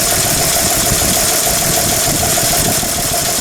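A Chevy 235 straight-six idles just after a cold start, a loud, close, steady mechanical rumble with a faint rhythmic ticking, no voices.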